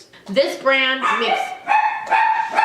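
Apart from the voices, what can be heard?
Chihuahua and Min Pin dogs barking in the background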